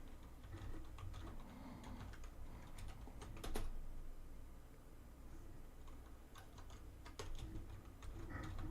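Typing on a computer keyboard, quiet and steady with bursts of key clicks and occasional louder taps, with no talk.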